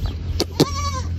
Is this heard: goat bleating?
yes